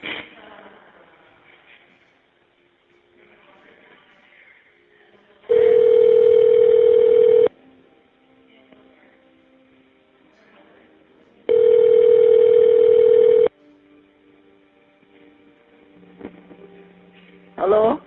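On an Evercom jail phone line, two long, loud, steady electronic tones sound several seconds apart, with faint line noise and murmuring between them and a brief tone burst at the close.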